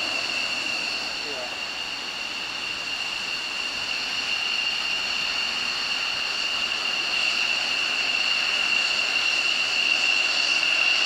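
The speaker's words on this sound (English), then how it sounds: "comes the F-15, getting ready to taxi." F-15 Eagle fighter jet engine idling as it prepares to taxi during military exercises, a loud continuous high-pitched whine with a steady roar beneath, swelling slightly louder toward the end.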